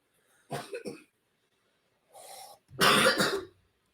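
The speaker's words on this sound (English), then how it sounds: "She's coughing in her sleep." A sleeping child coughs in short bursts, three separate coughs with quiet pauses between them, close by.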